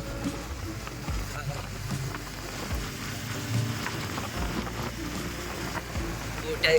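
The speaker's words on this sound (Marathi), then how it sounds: "पाऊस चालू आहे" Steady rain hisses continuously over a low rumble of water, a dense, even wash of sound with no pauses.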